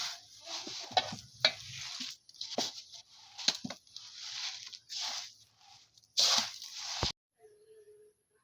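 Banana being mashed with sugar by hand for a batter, giving close, wet squelching and sticky squishing bursts in an irregular rhythm, fairly faint, ending with a short quiet stretch.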